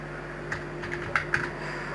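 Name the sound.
typing on a computer keyboard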